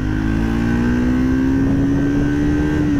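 A Triumph Speed 400 motorcycle engine pulls loud and close, its steady droning note climbing gradually in pitch throughout as the bike accelerates, with no voices over it.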